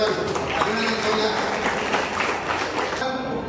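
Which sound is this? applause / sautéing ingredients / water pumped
applause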